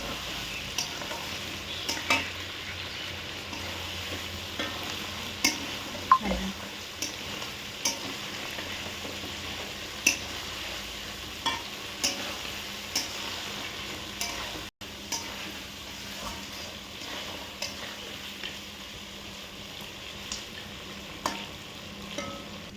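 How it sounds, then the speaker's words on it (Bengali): Desi chicken with green chili and dry chili paste is stirred in a sizzling pan, with a low, steady fry and regular spoon scrapes and knocks against the pot repeating throughout, close and fairly quiet, with no talking. "কাঁচা লঙ্কা, শুকনো লঙ্কা বাটা, ভালো করে নেড়ে নেওয়া হচ্ছে।"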